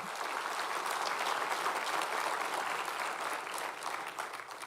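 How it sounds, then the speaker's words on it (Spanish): A church congregation claps for the Lord during a sermon, a steady, even wash of applause from many hands that stays level throughout, somewhat distant and without voices over it. "Dele un aplauso al Señor"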